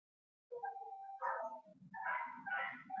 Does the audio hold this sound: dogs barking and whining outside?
yes